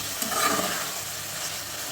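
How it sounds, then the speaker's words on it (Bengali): A masala paste with ginger paste fries in oil, giving a constant close sizzle with faint stirring and no talk. "এখন এই মশলাটা আবারও তেলের মধ্যে খুব ভালোভাবে ভেজে নেব আমি মশলার পানি শুকানো পর্যন্ত।"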